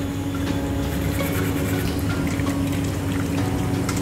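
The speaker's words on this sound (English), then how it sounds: "leave the tap water running" Water runs steadily from a tap, a constant broadband rush with faint splashing, no voices, unchanging throughout.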